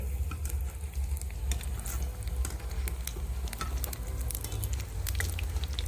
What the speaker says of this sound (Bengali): দেখো বেগুনিগুলো কত সুন্দর করে ফুলছে